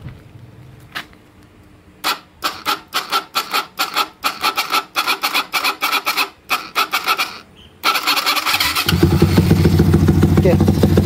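A Yamaha X1R motorcycle converted to fuel injection is kicked over in a quick series of sharp rasping cranking bursts before the engine catches and settles into a loud, steady idle close by.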